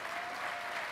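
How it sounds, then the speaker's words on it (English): Dense, even crowd applause for panelists at a Disney fan event, a steady wash of many clapping hands with no break. "One more round of applause for our fabulous panelists today"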